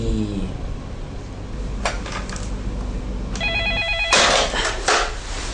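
Telephone ringing in an office or dispatch setting: an electronic ring tone with repeated bursts, then a louder ring, heard over a steady background hum.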